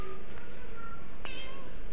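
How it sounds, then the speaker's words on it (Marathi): A domestic cat meows a few times, high and fairly clear, against a low background hum with no one talking. "माऊ कशी करते माऊ?"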